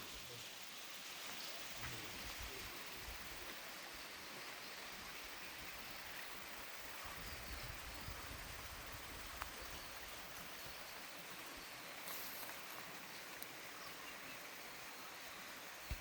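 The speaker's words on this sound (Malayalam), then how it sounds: "നമ്മുടെ സ്ഥലത്തേക്കൂടെ തന്നെയുള്ള ചെറിയൊരു അരുവിയാണ് കേട്ടോ" A small stream flows through farmland, giving a faint, steady wash of trickling water with a few soft ticks and no voices.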